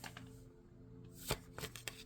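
Tarot cards riffle and flip in a few short, soft bursts near the end, fairly faint against a quiet room.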